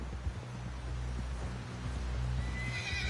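A horse in the video game Red Dead Redemption 2 whinnies and snorts near the listener as it walks toward camp, with soft hoof clops over a low droning game ambience.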